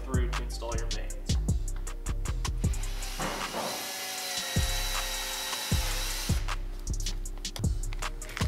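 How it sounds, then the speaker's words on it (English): A power drill bores through pre-drilled holes in a car front splitter, with a steady run of rapid rhythmic clicking pulses and a louder, rougher grinding stretch in the middle, heard up close. "you're gonna wanna drill all the way through to install your vanes"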